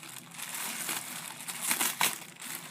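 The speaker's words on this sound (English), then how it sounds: "Coffee maker comes in this plastic, and then I'm just gonna cut that off." Plastic wrapping being cut off a Mr. Coffee 5-cup programmable coffee maker, heard as continuous close crinkling and rustling with a few louder crackles, no talk.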